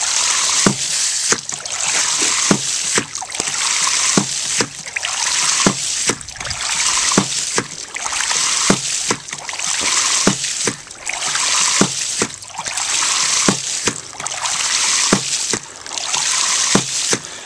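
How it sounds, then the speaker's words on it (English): A hydraulic ram pump working beside rushing water, its sharp clacks repeating at a steady, roughly one-second beat over a continuous loud wash of flowing water. "now we're gonna come over here and start the ram"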